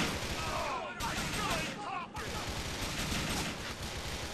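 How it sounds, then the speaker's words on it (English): Gunfire in Grand Theft Auto IV during a construction site battle, dense rapid bursts of shots that are loud and constant, with a short pause partway through, mixed with game voices. "The hell's shooting me?"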